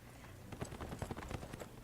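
A horse mount gallops in the video game Neverwinter on PS4, its hooves clip-clopping in a quick, regular rhythm that stays fairly quiet and close throughout.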